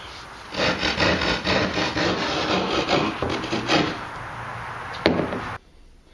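A piece of drywall being cut for a wall patch, a steady raspy scraping and sawing rhythm for about five seconds, close and fairly loud, ending with a sharp snap before falling quiet.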